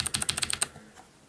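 A Das Keyboard Model S with clicky Cherry MX Blue switches is tapped in a quick burst of about nine sharp, close key clicks, then fades into quiet.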